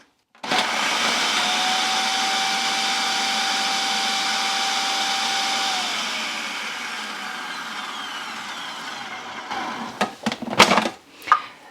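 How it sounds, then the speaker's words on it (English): Food processor chopping garlic cloves: a loud motor whir starts abruptly and runs steadily for several seconds, then winds down, followed by a few knocks and clatters of the bowl and lid. "I like to put the cloves in the food processor first to chop them up really well"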